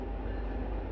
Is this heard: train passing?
yes